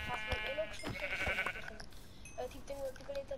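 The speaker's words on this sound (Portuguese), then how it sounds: "Olha outra ovelha." Sheep bleating in Minecraft, a few short, wavering bleats rising over a steady bed of game sounds at moderate loudness.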